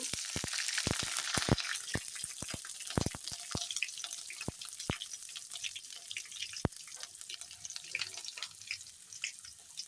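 Bay leaves and green chilies fry in hot oil with a steady hiss, while sharp crackling pops burst out near the start and thin to scattered spits later. A water-like splash is also audible.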